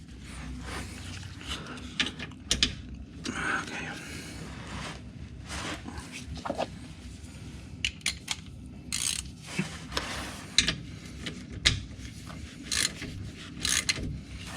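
A ratchet tightens a tapered engine plug on an RB20DET in an R32 Skyline GTST: faint, irregular clicks and metallic handling sounds over a quiet background.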